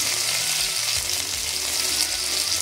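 Garlic and ginger paste hits hot mustard oil already tempered with bay leaf, dried red chilli and whole cumin, producing a loud, continuous close-up sizzle with faint stirring, no voices.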